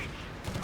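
Rapid 20mm autocannon fire from a Humber armored car in the Company of Heroes 3 battlefield, a dense, continuous burst of overlapping shots filling the moment with a loud rattling roar.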